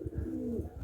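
At a pigeon farm, a single soft, low coo from a nearby pigeon rolls out in one smooth, throaty phrase lasting under a second, with no other sounds around it.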